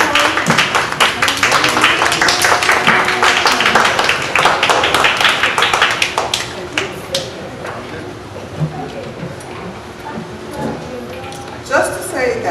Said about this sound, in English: We're going to clap, say hello to Mr. Howell.